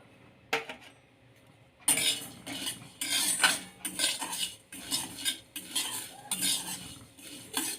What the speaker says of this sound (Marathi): ही पण खमंग भाजून घ्यायची आहे ह्याच्यामध्ये तीळ घालून घेते